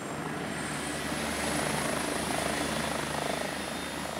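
Firefighting helicopter over Corsica with its engines at full power, a loud, steady rotor thrum and turbine whine heard from close by, alone.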